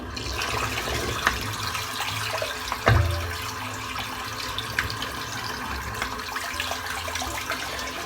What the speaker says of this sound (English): I'm just going to empty the sink out.